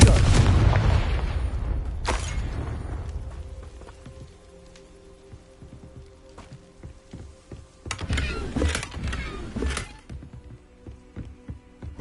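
Confringo explosive spell cast in Hogwarts Legacy: a loud blast at the start that rumbles and fades over several seconds, then a sharper crack, and a later burst of crackling impacts near the end.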